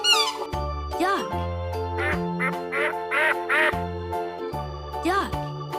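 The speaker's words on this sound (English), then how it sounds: "Duck." A duck quacks repeatedly in nasal, rhythmic calls over a bouncy musical backing with a steady bass line, loud and close.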